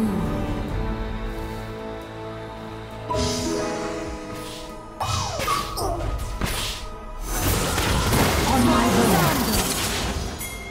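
A chaotic Wild Rift team fight at the dragon, dense with clashing hits, whooshing spell effects, thuds and crashes layered over game music, swelling louder toward the end.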